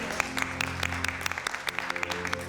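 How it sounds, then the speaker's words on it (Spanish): Steady applause from an audience at a staged Argentine history comedy show, dense overlapping claps running throughout with a low sustained hum underneath. "Un aplauso, por favor."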